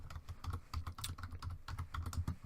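Quiet, steady typing on a computer keyboard, with rapid soft key clicks in a continuous rhythm, close by and without talking.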